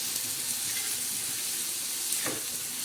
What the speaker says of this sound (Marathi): आता हा गोळा मस्त याच्यामध्येच असा चांगला परतून घ्यायचा आहे कांद्यामध्ये.